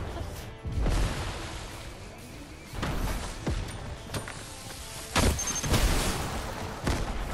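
Dynamite blasts in the Fortnite video game, several loud booming explosions and thuds spaced across a few seconds amid game noise.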